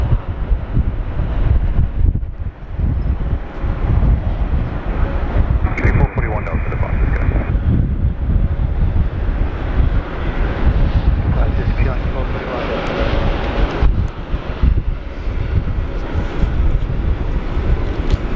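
Strong wind buffeting the microphone during plane spotting at Sydney Airport, a loud continuous low rumble and roar with gusty swells throughout.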